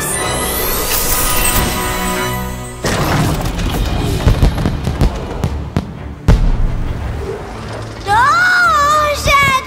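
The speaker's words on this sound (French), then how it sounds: "Oh, j'adore les feux d'artifice!" Cartoon fireworks bursting in an animated scene, several booms and crackles over a music bed, with a voice talking and a whistling rise near the end.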